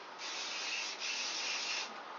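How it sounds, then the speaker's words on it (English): Two short, soft bursts of aerosol spray hissing close by, separated by a brief pause, with nothing else around. "spray some of your hairspray all the way through"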